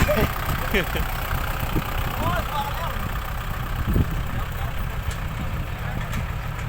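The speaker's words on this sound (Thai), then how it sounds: "รถไถยังไม่ได้ดึงเลย" A tractor engine idles with a steady low rumble, with faint clanks and scattered voices in the background.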